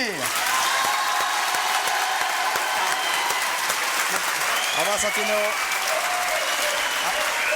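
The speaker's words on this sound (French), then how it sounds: "Applaudissements en tout cas de la foule en délire" Studio audience on a French television variety show bursting into sustained, dense applause that stays loud throughout, with a few words spoken over the clapping.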